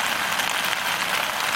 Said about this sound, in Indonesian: Tiba-tiba hujan deras.